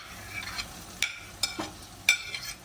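Fried onions with added tomato are stirred in a pan for a mutton drumstick curry. A low sizzle sits under several sharp scraping and clinking strokes of the spoon against the pan, close and uneven.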